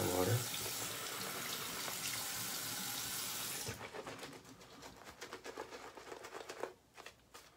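A tap runs steadily, filling water for a shave with bar soap, then shuts off after a few seconds, leaving soft handling clicks and small movements close by.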